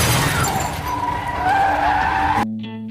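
A stolen car tears away from a hotel parking area, tires skidding and engine roaring loudly for a couple of seconds before cutting off abruptly, leaving faint tonal music behind.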